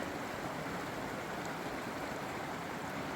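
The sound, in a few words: mountain creek flowing under a bridge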